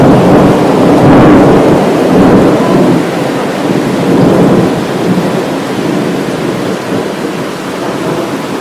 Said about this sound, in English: now that we're in the actual rain, it's quite calm